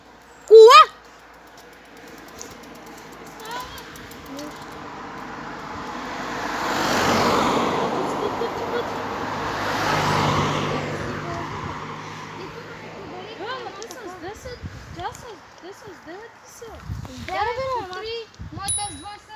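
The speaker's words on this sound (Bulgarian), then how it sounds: "Кола." A car passes along a road near a residential neighbourhood, its engine swelling and then fading over several seconds. Children and adults talk loudly before and after it goes by.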